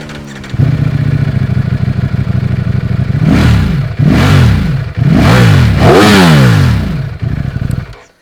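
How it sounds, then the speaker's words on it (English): A 2021 Ducati Streetfighter V4 S motorcycle idles with a loud, close engine note, then gets several sharp, aggressive throttle blips that rise and fall in quick succession before settling back. "This is a loud, mean and angry sounding bike."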